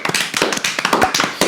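A handful of people applauding at the close of a student-life podcast, uneven claps and taps in bursts of a few strikes at a time, close and fairly loud with no talking.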